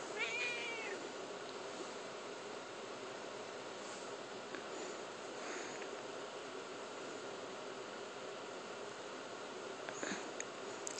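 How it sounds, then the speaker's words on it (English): A pet cat meows indoors to wake its owner, a few faint, short meows over a quiet background hiss, with no talking. "I have a sweet kitty that wakes me up at 8 on my freaking day off because she can't shut the hell up."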